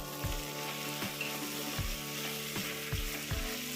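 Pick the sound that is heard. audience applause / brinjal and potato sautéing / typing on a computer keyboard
brinjal and potato sautéing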